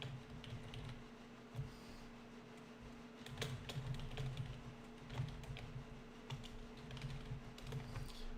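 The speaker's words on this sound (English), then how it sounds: "I was reading and I was typing here." Keys clatter in irregular bursts on a computer keyboard, close by, over a steady low electrical hum, with no talking.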